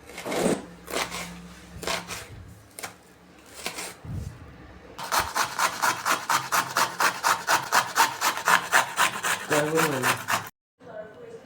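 Ginger and garlic are rubbed against a very small grater in quick rhythmic strokes, scattered at first then a fast, even run of loud rasping passes before stopping abruptly; no talk.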